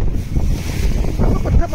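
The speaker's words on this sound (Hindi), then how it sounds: "भाई सही लहरें आ रही हैं बिल्कुल।" Ocean waves at sea off Goa slosh and surge around a rocking boat, loud and close, mixed with heavy wind rumble against the microphone, with no clear talk.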